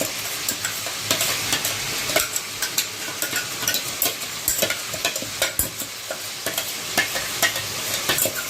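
Chicken being sautéed with marinated biryani spice paste in a hot pan, with steady sizzling and frying under repeated sharp scrapes and clacks of a spoon stirring, fairly close and continuous, with no voices.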